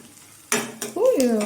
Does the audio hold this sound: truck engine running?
no